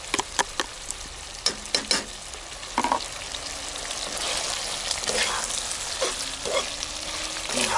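Garlic sizzles steadily in a hot pan while shakshuka with canned stewed meat is cooked outdoors for a fishing breakfast, with sharp stirring clicks and scrapes near the start over a constant close hiss.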